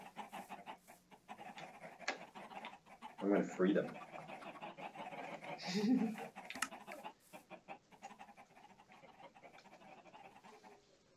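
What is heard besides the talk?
chickens clucking in a video game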